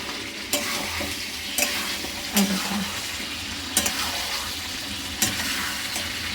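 Mutton fries in a pan with a constant crackling sizzle, broken every second or so by sharp scraping strokes as the pieces are stirred, close and fairly loud.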